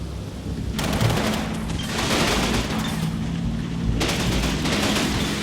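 Sustained volleys of gunfire and explosions from a tank and infantry firefight in the WWII Normandy strategy game Combat Mission: Battle for Normandy, a dense, loud, continuous barrage with bursts swelling throughout and no talking.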